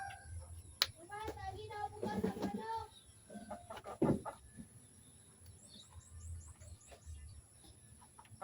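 Chickens in a rural yard making scattered clucks and calls, quiet and close, mixed with brief voices and household sounds.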